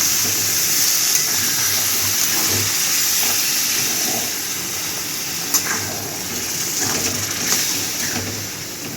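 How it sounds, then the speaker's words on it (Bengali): Water poured into a pan of fried rohu fish head, giving a steady broad hiss and sizzle that fills the whole stretch, with a few faint clinks and taps along the way. "এবার আমি জল ঢেলে দেবো"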